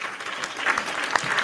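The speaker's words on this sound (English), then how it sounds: "Roaring round of applause for Kyle Fisher." Roaring applause from a crowd at a live sports talk show, steady dense clapping throughout at close range, with no voices standing out above it.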